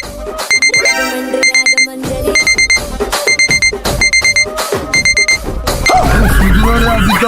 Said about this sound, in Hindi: ये अलार्म बज रहा, उठ काहे नहीं रहा?